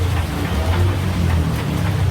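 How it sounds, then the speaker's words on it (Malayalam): Heavy rain pours steadily in a town near Gangtok, Sikkim, a dense, loud, unbroken hiss with no talking. "നല്ല മഴ, അടിപൊളി മഴ."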